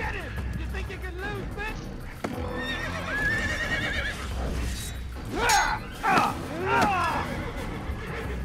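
Several horse whinnies in the video game Assassin's Creed ring out, louder toward the end, over hoof clatter and a brief crash, with a person talking in between.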